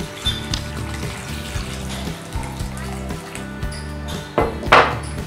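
Water is poured into churned cream while making homemade butter and ghee, a brief close splash near the end over continuous background music.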